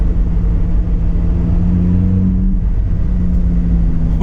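A Lotus Exige 350 Sport engine roars loudly and close, a dense, sustained growl that holds strong throughout with no talking.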